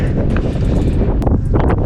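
Strong wind buffets a rooftop view over Lublin, a steady dense roar of gusts battering the microphone with no pauses, close and loud throughout.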